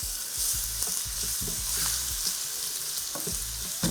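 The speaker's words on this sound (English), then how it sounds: "add in the garlic. I don't want this garlic to fry for too long." Garlic and a pinch of aniseed fry in olive oil, giving a bright, steady sizzle close by, with soft, regular taps and scrapes of a utensil in the pan and no voices.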